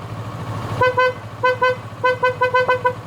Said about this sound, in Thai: สุดจัดแล้วก็เสียงแตรนั้นสุดยอดมาก